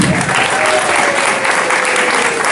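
A graduation audience claps loudly and steadily for a graduating student, a dense continuous wash of many hands close by.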